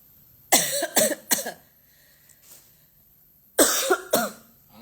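Harsh, close coughing comes in two bursts: a run of three quick coughs, a pause, then two or three more loud, rasping coughs.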